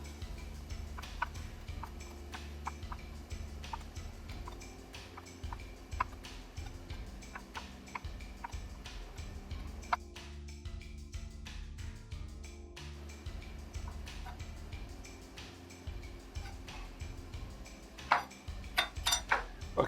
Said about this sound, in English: Okay, now that my mushrooms are sliced,